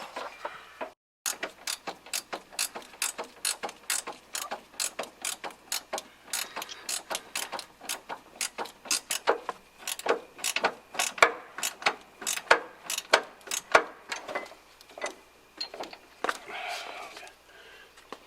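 A socket ratchet wrench clicks in fast repeated strokes while torquing the independent rear suspension bolts on a 1993 Fox-body Mustang notchback, crisp and close, with brief pauses between runs and quiet voices in the background.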